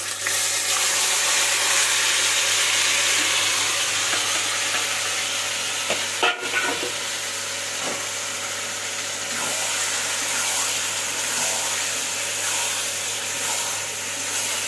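Steady loud sizzling of vegetables poured into fried spices in hot oil, with stirring scrapes and a sharp clack midway; no one speaks.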